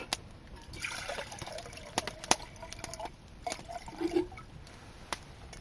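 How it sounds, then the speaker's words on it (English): Water trickles and dribbles into a cook pot to make Chaga tea at a woodland lean-to, faint and close, with a few soft drips and splashes over low background hiss. "I'm going to boil myself up a cup of water."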